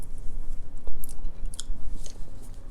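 Someone chews a bite of stir-fried beef with green beans, making close, soft, rhythmic mouth sounds with a few faint crisp crunches.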